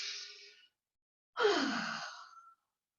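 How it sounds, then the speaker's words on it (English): Slow yoga breaths: a soft exhale trailing off, a pause, then a fuller breath in and out, close and quiet with no talking. "In and out breath, nice and neutral"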